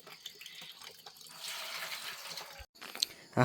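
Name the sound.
washing cups and spoons with water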